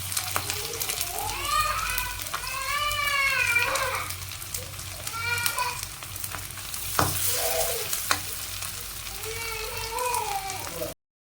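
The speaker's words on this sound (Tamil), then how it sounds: "அடுத்து மீன் ஃப்ரை பண்ணலாம். தோசைக்கல் வச்சு எண்ணெயை ஊற்றியாச்சு" Fish fries in oil on a dosa griddle as part of a home Sunday cooking session, giving a steady, close crackling sizzle that runs throughout. A person talks over it and light stirring noises come through.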